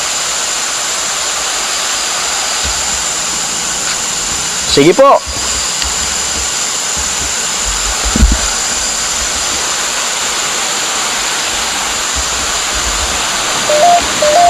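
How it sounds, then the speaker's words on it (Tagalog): Steady broadband rushing of a river fills the scene, loud and continuous, with a person briefly speaking over it. "May ilog kasi dito."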